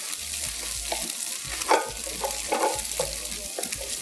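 Egg fries in a pan for Thai fried rice, with repeated scraping stirs at an uneven rhythm over a steady close sizzle and a low intermittent hum underneath.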